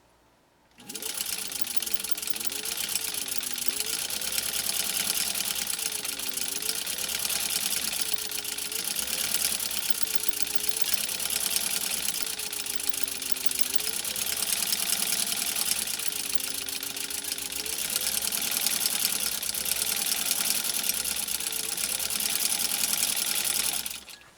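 A centennial Singer 15-91 sewing machine stitches leather with upholstery thread at a quick, steady pace, its motor hum and needle rhythm running continuously and close for over twenty seconds, with no talk.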